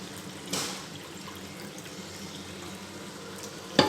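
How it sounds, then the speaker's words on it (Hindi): Water is poured into a pot of mutton and potato curry during home cooking, giving a brief splash followed by a soft, steady liquid trickle, with a small clink at the end. "तो मैं इसके अंदर पानी ऐड कर लेती हूँ।"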